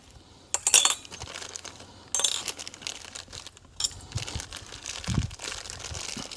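A small plastic bag holding two bolts and a couple of washers is handled during 2020 Subaru STI engine dress-up work, giving intermittent crinkles and light metallic clinks in short bursts close to the microphone.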